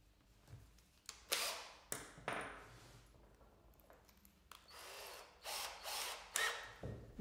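A power drill whirs in several short bursts with pauses between them, biting into wood, fairly close and loud.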